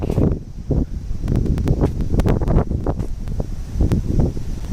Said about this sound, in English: I hope the wind will calm down a little bit once we reach this park.